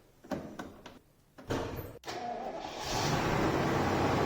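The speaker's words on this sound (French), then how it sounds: "Je vais démarrer le moteur." A Jaguar engine cranks and fires up, its noise swelling into a steady idle after a few sharp clicks and clunks, with a brief crack just before it settles in close by.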